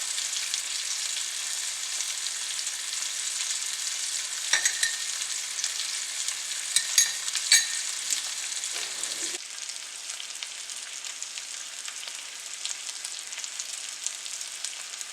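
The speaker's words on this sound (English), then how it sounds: "now that it has this little sizzle going, it's frying perfectly now." Lamb loin chops sizzle steadily in a frying pan, a continuous hissing crackle with a few soft clinks and shifts partway through.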